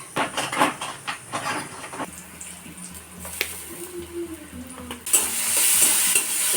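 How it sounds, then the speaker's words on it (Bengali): Chopped onion, garlic, ginger and chilli fry in a pan with a close sizzle and scraping stir strokes, and the sizzle swells into a loud, steady hiss toward the end. "এবার এটার মধ্যে পেঁয়াজ রসুন আদা লঙ্কা সব কুচিয়েছিলাম সেগুলো একটু ভালো করে ভেজে নেব"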